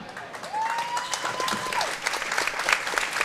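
An audience at a junior curling bonspiel final claps steadily and warmly for the curlers. A single rising whistle cuts through early on.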